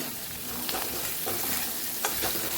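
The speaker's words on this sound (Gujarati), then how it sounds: "એ પણ સરસ આપણે મિક્સ કરી દઈશું" Coriander-cumin powder being stirred into gunda sambharo in a pan, with soft scraping strokes and a light sizzle running steadily through a short stretch, a few sharper spoon scrapes standing out.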